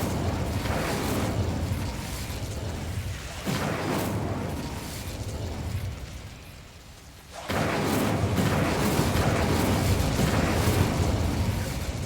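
A fire spell cast in the video game Hogwarts Legacy roars as a loud, sustained rushing blast that eases for a moment, then surges back at full strength.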